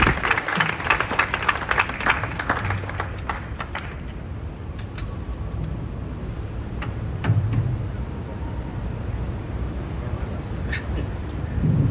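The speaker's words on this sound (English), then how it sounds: "Give Chris a round of applause" Outdoor crowd applause at a Philadelphia mayoral press conference and bike ride, a dense burst of clapping that fades into scattered claps, crowd murmur and outdoor noise.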